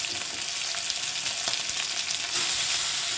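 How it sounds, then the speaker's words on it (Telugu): Washed chana dal tipped into a hot pan sets off a steady, close sizzle, a bright frying hiss that swells near the end as the lentils settle into the oil, with no talking. "ఇప్పుడు కడిగిన శనగపప్పు ఇప్పుడు మనం ఇందులో వేసుకోవాలి"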